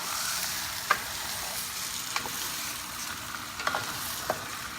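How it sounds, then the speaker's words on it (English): Pork kare kare with beef tripe is stirred in a sizzling pan, a steady close frying hiss broken by a few sharp scraping knocks from the utensil, with no voices. "Let's give it a stir."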